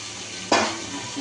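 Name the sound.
chicken added to fried onions sizzling in pan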